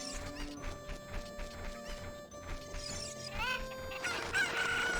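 Cuccos crowing and clucking in The Legend of Zelda: Ocarina of Time, several overlapping rooster crows and clucks from the game's chickens, fairly quiet, with game music and effects underneath.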